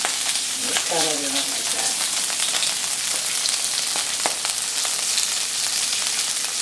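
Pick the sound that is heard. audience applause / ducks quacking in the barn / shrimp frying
shrimp frying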